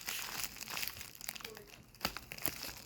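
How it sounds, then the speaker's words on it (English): Close, steady crinkling and rustling of a package being carefully opened with a knife at an unboxing, with a couple of sharper crackles near the end and no talk. "I will open this as carefully as I can with the knife I got."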